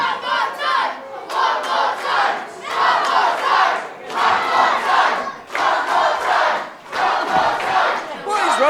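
Crowd at a boxing match shouting and roaring in loud, continuous surging bursts with brief dips between swells, no clear single voice standing out.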